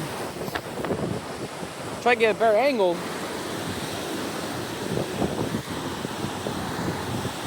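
Strong surf and gusting wind roar against the microphone at a tide-pool shore, while a person speaks briefly over the steady rush of waves.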